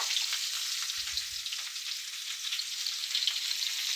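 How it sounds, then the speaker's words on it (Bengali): Potatoes frying in hot oil for a Bengali drumstick and fish curry, a steady close hiss and crackle of sizzling that holds evenly throughout, with a brief low knock near the start. "এই একই তেলের মধ্যে আলুগুলো ভেজে নিব।"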